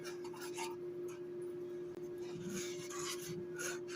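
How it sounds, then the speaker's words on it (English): Cheddar and mozzarella are whisked into a macaroni and cheese sauce in a pot, producing faint, soft scraping and rubbing strokes in an irregular rhythm over a low, steady background hum. "when you're whisking, make sure you just keep whisking"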